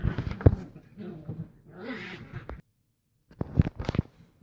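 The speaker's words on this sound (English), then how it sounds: "excuse my puppies." Puppies give a few brief whimpers and yips, mixed in with a voice reading aloud indoors before a short silence.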